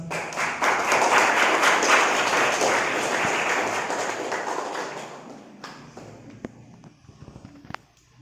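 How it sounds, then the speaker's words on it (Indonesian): Applause from an audience at a student organization's general members' meeting, a loud, dense wash of clapping that gradually thins out and ends in a few scattered, separate claps. "Sekali lagi mari kita berikan tepuk tangan ya"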